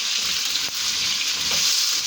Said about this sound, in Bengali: আমি এখানে গাজরকে তেলে ভেজে নিতে আসি, তেলের উপরে করে ভেজে নিব আমি এটাকে।